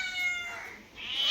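A cat meows near a wood-fired clay stove where fish is frying, giving a couple of close, clear drawn-out calls with a short dip between them.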